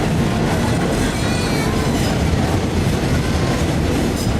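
A train rumbles steadily overhead on a railway bridge in Britain, a loud continuous roar with rattling wheels and a faint metallic squeal, close by and unbroken throughout.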